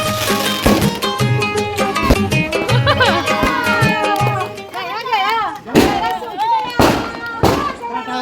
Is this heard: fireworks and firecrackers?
yes